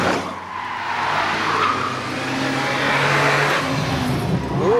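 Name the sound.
army truck cornering hard, tyres skidding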